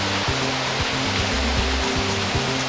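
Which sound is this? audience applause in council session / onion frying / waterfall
waterfall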